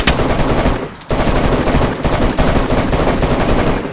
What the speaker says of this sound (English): we're both shooting at each other